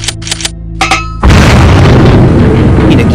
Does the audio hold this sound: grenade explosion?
yes